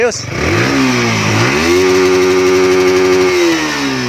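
A Yamaha R15 motorcycle engine starts and runs after a new fuel pump assembly is fitted, with a loud, close idle that rises into a steady higher rev and then eases back down.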